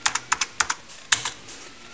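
Keys clack on a TRS-80 computer keyboard as a short command is typed, a quick uneven run of crisp close taps with a brief pause partway through.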